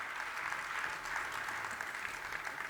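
A crowd claps at a religious sermon, a soft, even wash of distant applause holding steady for a few seconds without pause.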